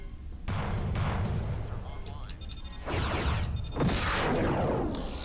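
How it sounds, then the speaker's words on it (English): Plasma and fusion cannon fire in the Starfleet Command space combat game, heavy booming bursts that hit in several waves with short gaps between them, loud and close. "that many plasma or fusion cannons to the face is what we call not good"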